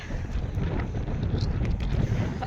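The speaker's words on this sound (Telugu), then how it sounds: "గాలి బలంగా వచ్చేస్తున్నది" Strong wind roars and buffets continuously against the microphone, a dense low rumble with no voices.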